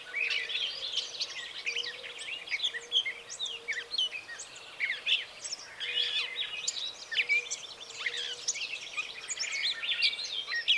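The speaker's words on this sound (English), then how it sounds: "A gray catbird sings, as a migrating Swainson's thrush gives his harmonic whistles from the undergrowth" A gray catbird sings a varied, scratchy jumble of phrases while a migrating Swainson's thrush gives spiralling harmonic whistles from forest undergrowth near cherry thickets; continuous, layered birdsong at moderate distance with no voices.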